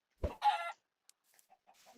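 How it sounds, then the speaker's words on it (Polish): A chicken in the Minecraft video game gives a short, sharp cluck followed by a brief clucking call, close and clear, with faint game noises after and no talk. "O, kurczak, dobra."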